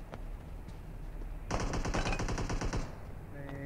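Rapid machine gun fire in a video game, a dense burst of shots lasting over a second, loud and close, with faint ambient sound around it.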